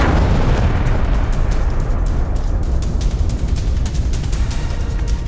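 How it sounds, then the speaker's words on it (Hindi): A loud explosion blows up a militant hideout during an army encounter in Kupwara's Nowgam sector, a dense sustained roar of blast and rumbling debris filling the whole stretch with no voices. "आतंक के इस अड्डे को एक जोरदार धमाके के साथ उड़ा दिया जाता है"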